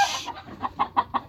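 Backyard chickens clucking up close in a quick run of short, rising clucks that grow louder toward the end, with no talking.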